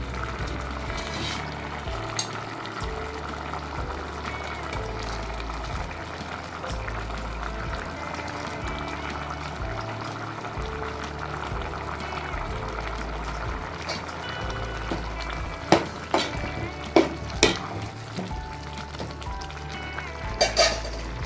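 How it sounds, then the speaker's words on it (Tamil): Vada curry comes to a boil in a pot, giving a steady bubbling, sizzling simmer throughout with a few sharper clinks and knocks of utensils near the end. "நல்லா ஒரு கொதி வந்துருச்சு இதில் வந்து நான் இந்த உதிர்த்து வச்ச வடையை சேர்த்துக்கிறேன்"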